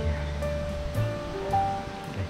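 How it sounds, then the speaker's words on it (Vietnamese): A forest stream gushing over rocks in deep jungle, heard as a steady close rush of splashing water with no speech. "chỗ này phun suối nè"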